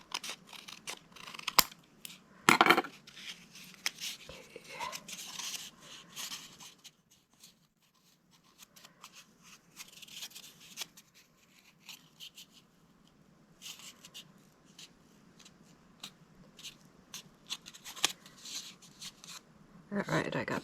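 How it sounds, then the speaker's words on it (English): Scissors trimming the edges of a cardboard tube, close snips and crunchy cuts in irregular bursts with pauses and handling rustles between them. "I'm going to trim up these edges a little bit."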